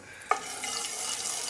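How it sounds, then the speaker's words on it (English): Fish sizzles in hot oil in a pan for a Bengali fish head curry, a faint, steady frying hiss that begins with a brief clatter or splash as the fish goes in. "need to fry the fish"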